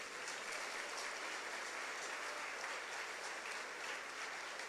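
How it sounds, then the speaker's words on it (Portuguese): A church congregation gives loud, continuous, uniform applause throughout, like a steady wash of clapping from a large crowd. "Agora sim você pode aplaudir o Senhor."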